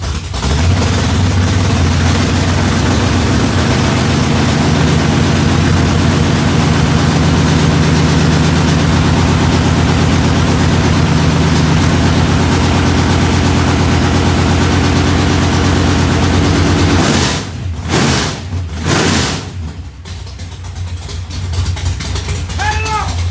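A small block V8 installed in a Chevrolet Malibu street car idles loud and rough close by, a heavy steady rumble that cuts off near the end, with voices over it.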